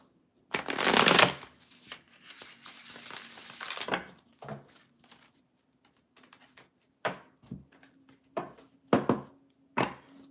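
Tarot cards being shuffled in several bursts: a long riffle followed by a string of short, crisp flicks and snaps, close and clear with no talking.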